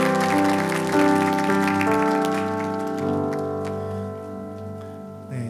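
A church congregation claps along over sustained worship music, the dense patter of applause loudest at first and gradually thinning as the music fades.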